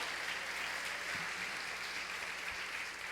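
Congregation clapping during a Sunday church service, a steady diffuse wash of applause at moderate level throughout, with a faint low hum underneath and a couple of soft thumps.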